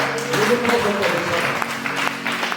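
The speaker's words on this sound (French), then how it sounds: "Est-ce que tu peux acclamer le Seigneur?" A church congregation claps in praise, a moderate burst of applause with voices and cheering mixed in, easing slightly toward the end.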